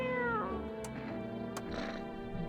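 A cat in the video game No I'm Not a Human meows several times in drawn-out, plaintive calls, fairly quiet and close, with faint background sounds around it.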